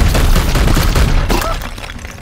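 Gunfire in the Warhammer 40,000: Daemonhunters video game, a loud close burst of rapid booming shots that thins out toward the end.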